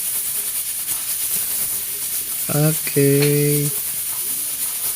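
A pressure cooker releasing steam while cooking native chicken tinola, a steady bright hiss running throughout, with a brief spoken word and a short tonal beep partway through.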